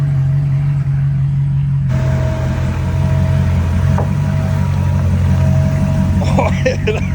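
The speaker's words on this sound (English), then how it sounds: "V8 baby, 7-liter LS7 engine, absolutely incredible" Corvette C6 Z06 with a 7-liter LS7 V8 runs at a steady, loud idle with a deep rumble, close by, while people talk over it.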